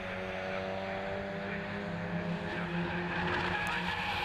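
Mazda MX-5 race cars in a BRSCC Mazda MX-5 Championship race at Brands Hatch, their engines holding a steady, loud drone that builds slightly as the pack passes, with faint tyre noise.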